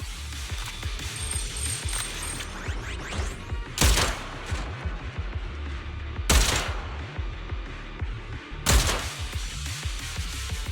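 Cannon fire in the action game Zenless Zone Zero: three sharp, booming blasts spaced a few seconds apart, loud over continuous clattering combat effects.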